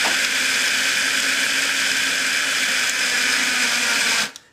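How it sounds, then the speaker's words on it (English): A small electric spice grinder grinds a coarse chocolate mixture with a loud, steady, high-pitched whir that runs continuously, then cuts off abruptly at the end. "I've taken some of the mix out so as to not overtax my poor spice grinder"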